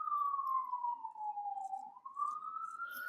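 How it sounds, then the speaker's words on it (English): A wailing city siren outside sweeps slowly down and back up in pitch, steady and moderately loud, with faint street noise around it. "apologize for the sirens."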